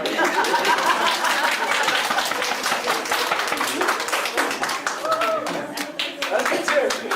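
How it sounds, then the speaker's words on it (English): An audience claps at a school event, a dense, steady patter of many hands running throughout with a few chuckles and murmurs mixed in. "Sometimes people clap when I come up front, but you don't have to."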